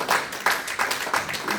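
A church congregation in Brussels claps in rhythm during a Sunday service, with steady, fairly loud beats about three per second and voices mixed in.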